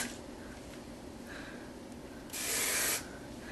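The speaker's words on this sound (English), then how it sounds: "I tend to go for the Sprunch by Aussie Hairspray." Aussie Sprunch hairspray sprayed in one short, close burst lasting about half a second, following a stretch of quiet room noise.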